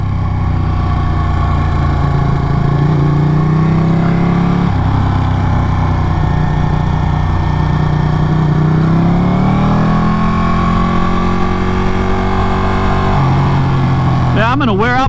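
A Ducati Panigale 959 motorcycle engine hums steadily and loudly while riding the twisty Tail of the Dragon mountain road, its pitch rising and dropping through gear changes under constant wind rush.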